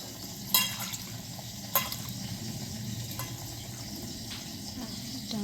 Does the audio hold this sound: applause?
no